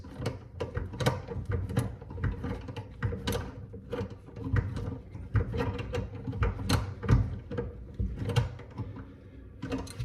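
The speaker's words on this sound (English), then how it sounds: "you can tighten this nut up here to lock it into place" Tightening a nut on a Moen Gibson faucet's drain stopper during installation, steady clicking and ratcheting metallic turns repeating close by, with no talking.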